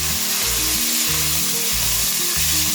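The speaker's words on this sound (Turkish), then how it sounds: "iç yağımızı kavurmaya başladı" Lamb suet sizzles and renders in a hot pan, a loud, steady frying hiss with a low bubbling pulse beneath, continuous and close with no voices.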